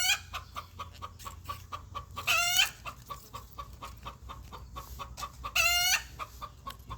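A backyard chicken near a garden of Malabar spinach makes a rapid string of soft clucks, with two louder, drawn-out squawks cutting through; close and fairly loud.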